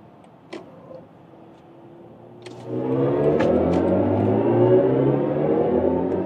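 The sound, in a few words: BMW i5 M60 Touring accelerating onto the Autobahn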